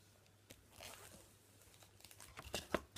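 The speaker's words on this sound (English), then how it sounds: "So I open the pack" Someone tears open a Cryptozoic Adventure Time trading card pack, with quiet crinkling of the foil wrapper and then a quick run of sharp tearing and crumpling sounds that grow louder toward the end.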